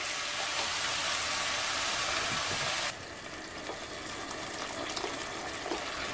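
Water poured into a pot of simmering minced meat sauce made with tomato paste and tomato juice, a steady close gushing splash that drops to a softer trickle partway through.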